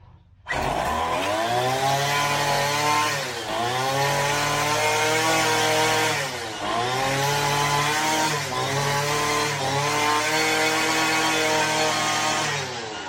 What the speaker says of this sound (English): let's see if we can get her started